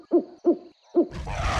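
Gorilla hooting in its African mountain forest home: three short, evenly spaced hoots, close and clear, followed by a rush of broadband noise.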